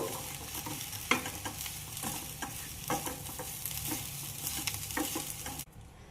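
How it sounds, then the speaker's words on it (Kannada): Mango masala chitranna rice being stirred and mixed in a pan, with repeated scraping and clinking of the spoon over a soft sizzle, close-up and fairly quiet, ending abruptly. "ಎಲ್ಲ ಬಿ ಕಲಿಸಿದೆ ಅನ್ನನ."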